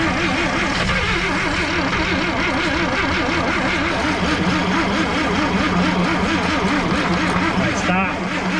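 A 1958 Chevy Apache truck engine cranking and trying to run after sitting 20 years, a steady, loud mid-pitched churn with wavering pitch throughout, with people talking over it.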